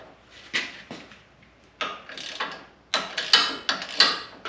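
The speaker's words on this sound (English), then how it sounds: "The next thing we're going to do is break open the sway bar connections here at the bottom." A ratchet wrench clicks in short bursts as 18mm sway bar bolts are loosened on a Jeep Wrangler JLU, close and fairly quiet, with irregular groups of metallic clicks and pauses between them.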